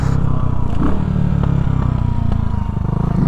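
A Vader 150 or Honda Grom 125 motorcycle rides past close and loud, its small engine revving hard with a steady rapid pulsing throb and some rattling clatter.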